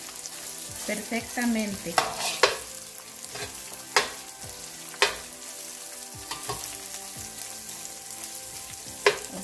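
Rice frying in a pan for Mexican rice a la jardinera, a steady sizzle broken by sharp scraping stirs, close, with a brief spoken word.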